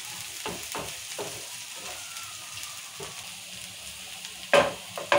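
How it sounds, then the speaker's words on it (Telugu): Onions, green chillies and curry leaves fry in a pan for a carrot stir-fry, giving a soft, steady sizzle close by, with a couple of sharp utensil clinks near the end. "ఉల్లిగడ్డలు మిరపకాయలు కళ్యామాకు వేగింది మంచిగా."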